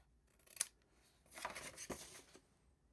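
Scissors snip a few quick cuts trimming the edges of a paper box, close and quiet in an otherwise still room.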